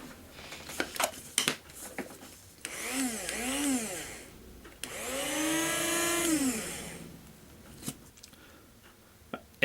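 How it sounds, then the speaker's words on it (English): A coffee grinder whirs in two bursts while grinding red squirrel fur for fly tying, the motor pitch rising and dipping as it spins up and winds down, with short handling clicks and taps before and after. "I'm going to take my coffee grinder and put them in the coffee grinder."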